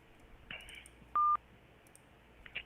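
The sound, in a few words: telephone keypad touch tones on a voicemail menu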